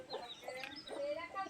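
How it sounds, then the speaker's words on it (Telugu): Hens let loose in a yard cluck softly in a short burst of quick, fairly faint calls, with light background noise. "కోడి పెట్టలను కూడా వదిలేసిన తర్వాత"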